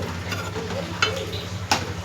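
Okra pulusu with coriander and curry leaves simmers in a pot under a steady bubbling hiss, broken by two brief scraping knocks as it is stirred.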